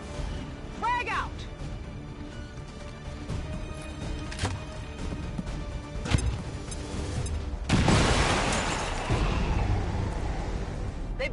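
An XCOM 2 frag grenade goes off about two-thirds of the way in, a loud broad burst that fades into crackling debris, with a voice talking over the game sounds.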